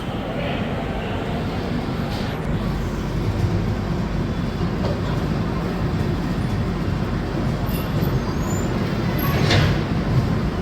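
Pushpak Express train rolling along just after leaving Itarsi Junction, heard from inside: a steady, loud rumble of wheels and carriage noise with faint rattles and occasional higher squeals.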